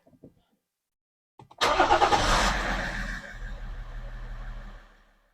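A BMW M57 diesel engine cranks and fires on a cold start, catching abruptly with a loud burst after a few faint clicks, then settling into a rough, rattling idle that fades out.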